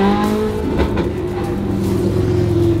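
A Ferrari 458 engine revving hard and steadily during a burnout, loud and close with a sustained high-pitched wail and no talk.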